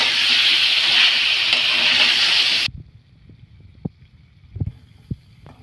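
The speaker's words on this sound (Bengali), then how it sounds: "আলুটা কিছুক্ষণ, সামান্য কিছুক্ষণ একটু ভাজা হবে" Potatoes frying in a pan for chicken curry give a loud, steady hiss of sizzling oil that cuts off abruptly partway through, leaving only scattered faint clicks and taps of stirring.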